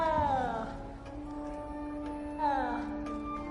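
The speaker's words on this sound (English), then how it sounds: "frightened, little cat." A frightened little cat in Hogwarts Legacy gives two drawn-out, wavering meows a couple of seconds apart, close and clear over a steady game ambience.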